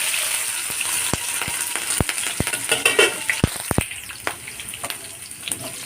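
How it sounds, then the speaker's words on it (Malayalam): Chopped garlic, green chili and ginger fry in hot oil for a cherry pickle, a steady sizzle broken by sharp clicks and stirring clatters of the spoon, close up with no talking. "ഇനി ഇതിലേക്ക് ഞാൻ ഇട്ട് കൊടുക്കുന്നത് ചെറുതായിട്ട് അരിഞ്ഞ വെളുത്തുള്ളി, പച്ചമുളക്, ഇഞ്ചി,"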